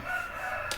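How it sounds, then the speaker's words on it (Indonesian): A rooster crowing in the morning, one sustained crow held through the moment, clear and fairly close. "sorry ya kalau ada suara ayam."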